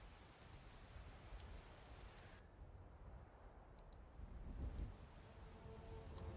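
Continuous rain hiss in the video game Skyrim, on a surface with occasional sharp clicks and ticks, steady and moderately loud throughout, no voices.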